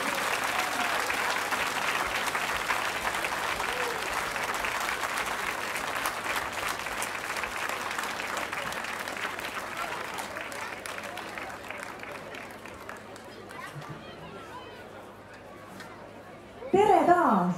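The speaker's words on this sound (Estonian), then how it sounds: "Käed aplausiks valmis, valmis olla!" An outdoor audience at a craft fair applauds for a band, a sustained wash of clapping mixed with crowd chatter that slowly fades out, before a louder burst of sound at the very end.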